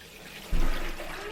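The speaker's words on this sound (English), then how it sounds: "I start by putting some water in the machine." Tap water pours into a Hornady ultrasonic cleaner, beginning with a faint trickle and then swelling into a steady, close gushing stream that continues to the end.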